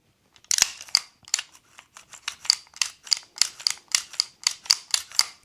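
A Colt 1911 pistol slide is racked back and forth over and over, giving a steady train of crisp metallic clacks, close and fairly quiet.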